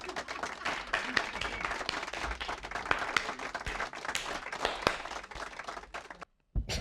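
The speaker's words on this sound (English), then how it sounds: "What kind of clapping was that?" Clapping from a small group heard at moderate level with irregular dense claps, mostly continuous, stopping abruptly near the end before a brief resumption.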